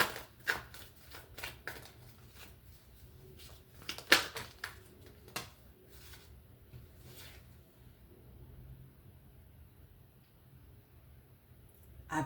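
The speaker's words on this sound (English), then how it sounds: "Let me shuffle real good." Playing cards shuffled by hand in a series of quick riffles and flutters, loudest near the start and fading to quiet gaps, over a faint steady low background hum.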